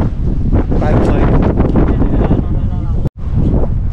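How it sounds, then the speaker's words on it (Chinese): Strong wind buffets the microphone on a rocky Hong Kong hillside, a loud continuous roar with gusts and a brief dropout near the end. "好大风啊！"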